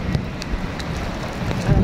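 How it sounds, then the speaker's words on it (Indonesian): Rain falls in Mecca as a steady, broadband hiss with scattered drops and some wind buffeting, fairly loud and close, with no talk over it. "Jadi benar-benar hujan berkah."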